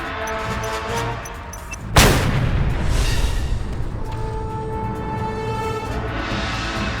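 An explosion in the Just Cause 2 video game bursts suddenly with a sharp loud boom, followed by a long rumbling roar of debris and fire that fades slowly over several seconds.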